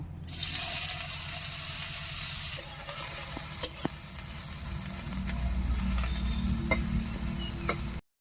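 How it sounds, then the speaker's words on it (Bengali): Soybean chunks fry in hot oil, giving a loud, continuous sizzle with bubbling and occasional stirring clatter, alone and close up until it cuts off at the end. "এবার সোয়াবিন ভেজে নেব।"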